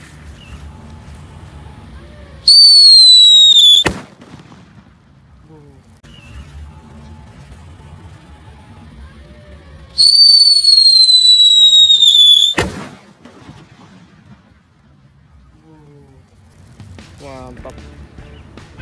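A jumbo firecracker wrapped in paper goes off twice, each time a loud shrill whistling hiss of a second or more ending in a sharp bang, with quieter outdoor background in between.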